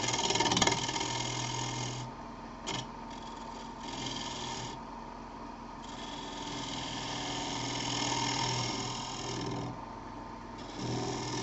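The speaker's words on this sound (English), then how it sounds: "I'm going to use a uh, bowl gouge to just start that cleanup process." A wood lathe spins a yarn bowl while a bowl gouge scrapes and cuts it, giving a continuous close rasping whir that shifts in tone as the tool moves.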